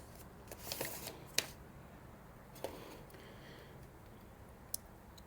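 Plastic seal wrap on a boxed copy of Mac OS 8 crinkles, tears and gets folded back: a burst of close, bright crackles early on, followed by a few isolated sharp ticks and rustles in a quiet room.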